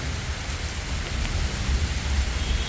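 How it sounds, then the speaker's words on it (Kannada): Heavy rain pours down in Bangalore under a cloudy sky, a dense, steady hiss of drops beating on surfaces with no voices, continuous and close throughout. "ಮಳೆನೂ ಬೀಳ್ತಾ ಇದೆ"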